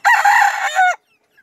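A young fighting rooster crows once, loud and close, a single harmonic call of about a second that cuts off cleanly into silence.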